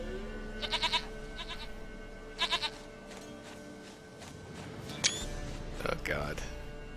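A goat bleats in The Witcher 3 video game, several short wavering bleats spread across the clip over a steady ambient game background, with brief speech-like vocal sounds in between.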